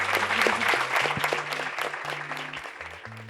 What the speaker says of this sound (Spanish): Un fuerte aplauso para Inés Garland y Selva Almada.